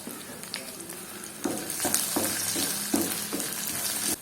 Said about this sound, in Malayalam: ഇനി അതിലേക്ക് നമ്മൾ ചെറിയ ഉള്ളി, 3-4 അല്ലി വെളുത്തുള്ളി ചതച്ചതാണ് കേട്ടോ ചേർത്ത് കൊടുത്തിട്ടുള്ളത്.